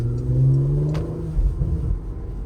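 A 2022 Porsche Macan GTS sports SUV accelerates hard, its engine drone swelling and climbing in pitch over a couple of seconds before easing off into a low rumble.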